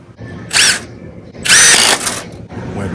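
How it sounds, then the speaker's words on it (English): Milwaukee M18 Fuel hammer drill impact driver spinning in two short bursts, the second longer, then a brief third whir, loud and close with quiet pauses between. "you can get a Milwaukee M18 Fuel Hammer Drill Impact Kit"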